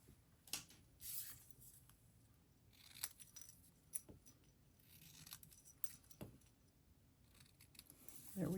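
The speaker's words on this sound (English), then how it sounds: "Cut those out so they're not very precise." Scissors snip out small paper pieces for a handmade stamped card at a craft table, a few scattered close crisp cuts and paper rustles with quiet pauses between them.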